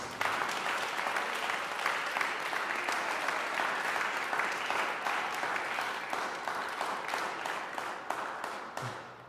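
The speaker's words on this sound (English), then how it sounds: "give him a round of applause" Sustained applause from a sizable concert audience for a guest trumpet artist, steady and dense, gradually thinning toward the end.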